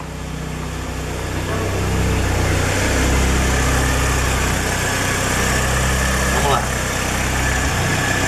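A Lada Niva fitted with a carburetted AP 1.6 alcohol engine idles steadily, its low rumbling drone close and loud throughout, with no voices heard.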